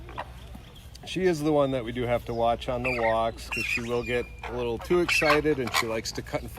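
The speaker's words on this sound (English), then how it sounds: "what you're hearing there is one of the juvenile calls" A juvenile flamingo at a zoo gives repeated nasal, honking squawks in short bursts, close and fairly loud, mixed in with a person talking.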